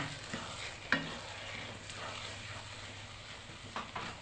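Pork-and-peanut filling for three-colour sago dumplings is stirred in a pan with ground peanuts, a soft steady scraping and faint sizzle with one sharp clack of the utensil early on, fairly quiet throughout.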